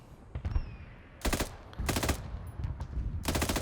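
Automatic gunfire in Arma 3, a modern military shooter, aimed at enemies on a hillside: three loud, rapid bursts of shots with a few single cracks between them, no talking.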